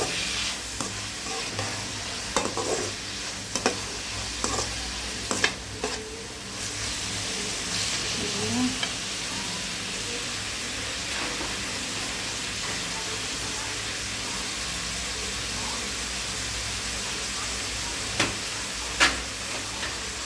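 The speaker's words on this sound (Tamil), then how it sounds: "2 வெங்காயம் 2 தக்காளி அவ்வளோ நல்லா வதக்கிட்டு லைட்டாக வதங்கிட்டு கொஞ்சம் நம்ம சால்ட்டு போட்டுக்கலாம்" Onions and tomatoes sautéing in a pan with salt, giving a steady low sizzle and frying hiss throughout, with occasional louder stirring clatters near the start and end.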